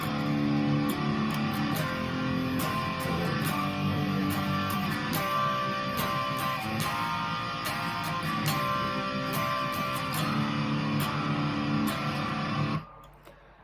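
A distorted electric guitar chorus from a song plays steadily with thick sustained chords and strummed accents, cutting off abruptly near the end.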